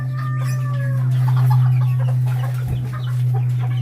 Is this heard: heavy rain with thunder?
no